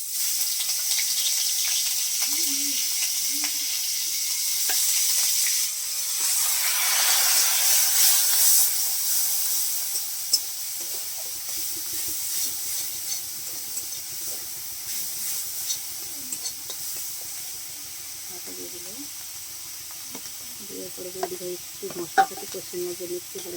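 Onion, ginger and garlic paste sizzles and hisses in a hot pan, a steady bright frying noise that swells and fades, with faint scraping and soft clinks from stirring toward the end and no speech.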